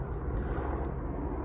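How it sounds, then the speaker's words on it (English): A big airplane or helicopter passes overhead as a faint, steady low rumble, a distant engine drone that holds without change. "It's a big airplane or helicopter flying by"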